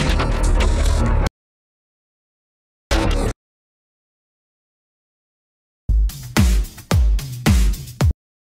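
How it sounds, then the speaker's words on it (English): A drum loop from a DJ deck played in short bursts separated by silence, with punchy kicks and bright percussive hits that stop and start abruptly. "the groove shadow sounds like this"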